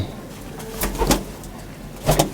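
Low, soft cooing of a large Punjabi pigeon with a few brief rustling bursts, close by and fairly quiet against a steady background hum.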